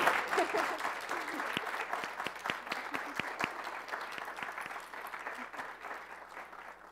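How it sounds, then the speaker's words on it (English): An audience applauds after a scientific talk on hypoxia responses in juvenile flatfish, with sharp individual claps standing out of a steady wash that slowly thins over several seconds. "But I invite you all to give Juliana one more round of applause."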